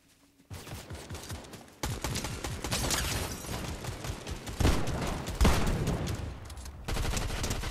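Rapid gunfire in a Fortnite duo match, dense bursts of shots repeating almost without pause, loud and close, following a brief quiet opening.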